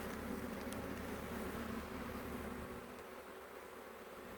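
Honeybees at an open hive make a faint, continuous buzzing drone that holds steady and then eases slightly softer toward the end.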